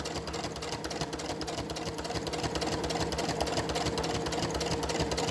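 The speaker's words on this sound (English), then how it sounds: "I'm going to sew all the way till I get to my other chalk line, which was at 6 inches." A sewing machine stitches a seam on a washable fabric face mask, a fast, steady mechanical chatter running close and continuous without pause.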